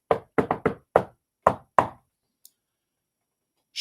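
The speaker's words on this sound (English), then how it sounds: "let's just say I got a knock on the door now." Knuckles rapping on a door in a quick, close burst of seven knocks, then a brief pause and silence.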